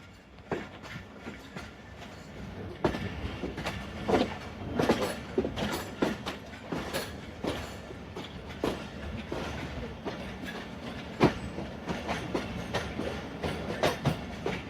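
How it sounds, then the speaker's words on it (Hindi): Narowal passenger train rolling along the track, a steady loud clatter of wheels with rhythmic clickety-clack joints and rattling carriages heard from inside. "यहाँ पे हिप हॉप करती हुई, पॉप करती हुई ट्रेन जो है वो मूव करती है"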